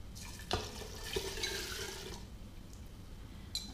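Water pours steadily into a container for a couple of seconds with a splashy rush, then settles into a quieter trickle, with a light clink near the end.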